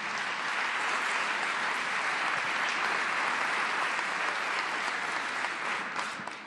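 Dense, continuous applause from a ceremony crowd honoring Pan American Games athletes from Lima holds at an even, loud level throughout.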